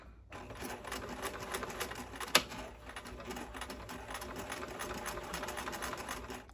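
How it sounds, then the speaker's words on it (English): A sewing machine backstitching at the start of a dart in fabric, running in a quiet, steady rapid clatter with one sharp click partway through. "I'm going to start with backstitching"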